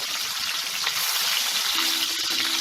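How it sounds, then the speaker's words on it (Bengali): Pabda fish, rubbed with salt and turmeric, fries in hot mustard oil with a loud, continuous crackling sizzle close by, and no talking. "আমি এখানে 2 চামচ সর্ষের তেল ভালো করে গরম করে নিয়ে নুন হলুদ মাখিয়ে মাছগুলোকে ছেড়ে দিয়েছি"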